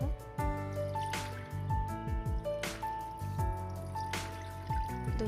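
Mutton pieces are rinsed by hand in water, giving repeated splashes, drips and trickles in an uneven rhythm, close and fairly clear, with a soft musical background.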